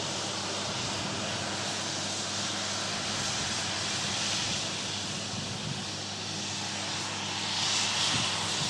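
A Boeing 757 airliner passes by, a continuous broad jet engine roar holding steady at moderate distance and swelling slightly near the end, heard alone.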